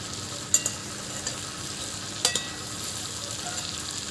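Prawns frying in a pan in a village kitchen, a steady close sizzle throughout with a couple of sharp clatters as a utensil knocks the pan, no voices.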